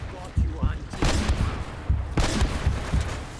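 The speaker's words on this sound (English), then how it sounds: "I just get confused by the fact that I keep hearing gunshots." Gunfire in Uncharted: Drake's Fortune cracks out in several sharp, punchy bursts spaced about a second apart, loud and close, over a rumbling game backdrop with a voice talking.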